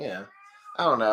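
A house cat lets out a brief, faint meow in a short pause between stretches of nearby conversation during a casual chat hangout, with voices talking before and after it.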